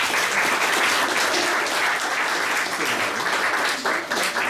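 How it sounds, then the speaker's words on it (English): A room of guests gives sustained applause at a wedding speech, with thick, even clapping throughout that thins slightly toward the end. "let's have a round of applause for my dad, Michael Thundercliff, and my brother Paul T"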